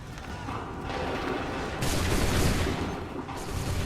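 Massed musket fire from a Bunker Hill battle in Assassin's Creed 3 Remastered, a dense crackling volley that swells around the middle and rumbles on through the clip, with no one speaking.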